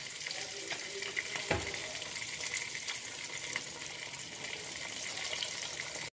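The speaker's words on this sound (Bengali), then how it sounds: "পাশের চুলো দেখতেই পাচ্ছেন মাছ ভাজি" Fish frying in oil on a home kitchen stove, a steady, soft hiss that runs the whole time with faint clinks and one brief knock, with no talking.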